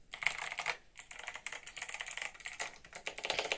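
Rapid typing on an 8BitDo Retro mechanical keyboard, a dense stream of close, crisp key clicks with short pauses, played alone without talk.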